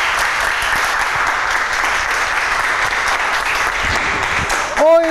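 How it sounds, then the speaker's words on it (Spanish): Studio audience at a live talk show applauds loudly and continuously, a dense steady wash of clapping, with a voice cutting in briefly at the very end. "Fuerte el aplauso para ustedes,"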